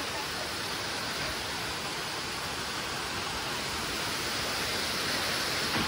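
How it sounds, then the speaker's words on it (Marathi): Water pours over a dam spillway as a waterfall, making a constant, dense roar of rushing water that stays even and unbroken throughout, with no voices. "धबधबा काय भारी दिसतोय."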